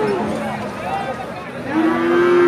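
A seven-to-eight-month-old Friesian heifer calf at a cattle market gives two drawn-out moos, the second rising and louder, amid a low murmur of market noise.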